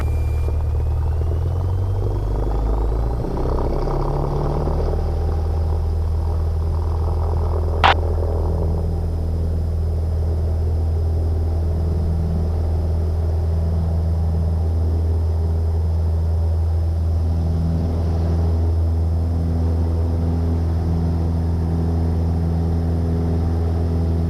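A light aircraft takes off from runway 27 at Gloucester, its engine a loud, steady, close-up drone and low rumble that holds evenly throughout, broken by one sharp click early on.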